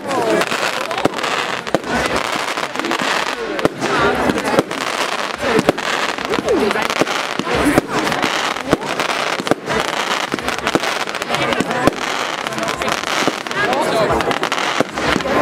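Profi Mix 2 Popping Flowers consumer fireworks crackle loudly and continuously, a dense sputtering of popping bursts with sharp snaps throughout, dominating from start to end.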